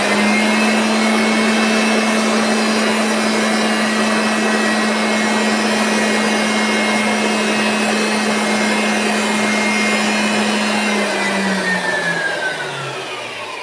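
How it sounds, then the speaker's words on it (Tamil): An electric blower motor runs on regulated voltage through a panel-board starter with an SCR controller, producing a loud, steady close whine and hum. The drone holds evenly, then its pitch sags as the motor slows near the end. "இப்போ ப்ளோயரோட சவுண்டு கம்மியாக கேட்குறத உங்களால் பார்க்க முடியும்."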